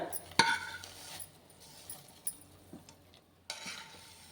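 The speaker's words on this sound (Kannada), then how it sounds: "ಇವಾಗ ಇದಕ್ಕೆ ಈ ಶಾವಿಗೆ ಡ್ರೈ ಫ್ರೂಟ್ಸ್ ಎಲ್ಲ ಹುರ್ಕೊಂಡಿದ್ವಲ್ಲ, ಇದನ್ನು ಹಾಕ್ಕೊಳ್ಳೋಣ" A spoon clinks against a pot as fried vermicelli and dry fruits roasted in ghee go into boiling milk for sheer khurma, with a sharp metallic tap, then faint stirring and a few softer knocks over a low simmer.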